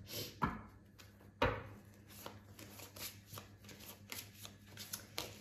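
Tarot cards are shuffled close by, with two sharp riffling bursts followed by a quieter run of rapid flicking and sliding.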